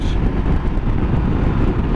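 A Honda CB400X motorcycle with an aftermarket end-can exhaust drones steadily at close range, a deep, throaty exhaust rumble mixed with wind noise, holding a constant level throughout.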